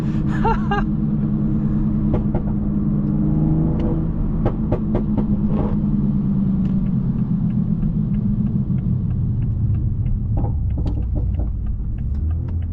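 A 2020 Toyota Supra with a maxed-out burble tune rumbles loudly through its exhaust, a deep droning engine note broken by sharp crackling pops in quick clusters, heard from inside the car.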